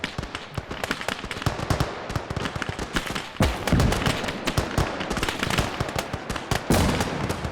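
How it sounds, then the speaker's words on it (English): Dense, crackling battlefield fire fills a World War I trench fight between Italian Alpini and Hungarians at the Isonzo, with sharp overlapping bangs and heavier thumps from grenade blasts, loud and nearly continuous. "now they're clearing the trenches with grenades"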